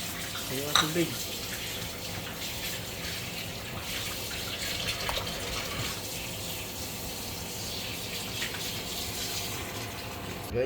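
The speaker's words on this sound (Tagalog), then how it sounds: "Ayun ang tubig." Tap water running steadily into a basin for several seconds, a continuous splashing flow with occasional clinks, while people talk intermittently.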